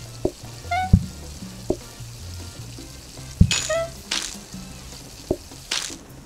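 Game-style wok frying in PlateUp: short sizzles and splashy cooking bursts, several sharp clicks, under a steady looping musical bed, with no talk.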